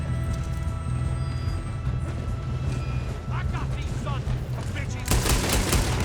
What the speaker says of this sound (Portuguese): Quase que você me dá um tiro aí